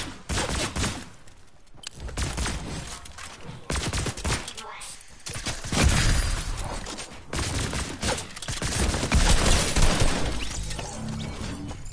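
Video game gunfire from a newly added weapon: dense, rapid bursts of shots and crashes that keep returning loudly, with a few pauses and some speech mixed in.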